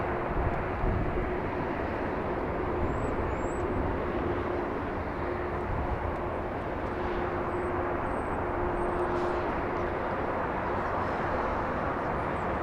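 A United Airlines Boeing 777 jet arriving at Los Angeles International Airport, a steady broadband engine roar holding at even loudness throughout, with no talk.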